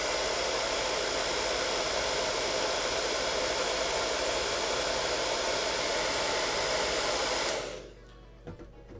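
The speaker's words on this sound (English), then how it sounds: "We'll dry it with a hairdryer." A hair dryer blows hard on hairspray coating a 1/144 scale model kit, a loud steady whooshing roar that runs unbroken for several seconds and then cuts off abruptly, leaving near silence.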